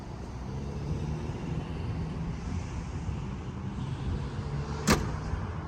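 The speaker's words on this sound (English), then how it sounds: "To close the hatch, all you have to do is push this button over here, and it will close automatically." A 2017 Ford Explorer Sport's power rear hatch closes automatically with a steady, faint motor whir, ending in a single sharp latch click near the end.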